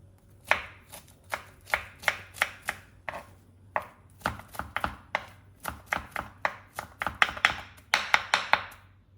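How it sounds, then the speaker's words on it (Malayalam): A knife slices banana flower (kudappan) into rounds on a cutting board, giving a run of crisp, close chops in quick irregular bursts with short pauses between them, and no talking. "ഇങ്ങനെ നീളത്തിലരിഞ്ഞ കുടപ്പൻ വീണ്ടും നമ്മൾക്ക് ഇങ്ങനെ മറച്ച് വെച്ചിട്ട് വീണ്ടും വട്ടത്തിലരിയാം കേട്ടോ"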